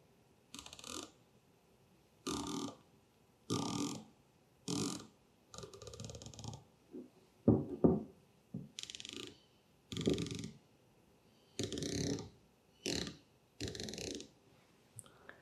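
Crisp mechanical clicks from the turret of a Maven RS4 5-30x56 rifle scope come in short, evenly spaced bursts of several detents each, close and fairly quiet, with no talking.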